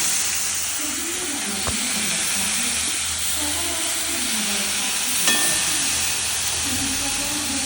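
Flattened rice (chira) hitting a pan of frying egg, giving a steady, loud, bright sizzle and hiss that runs throughout, with faint voices in the background.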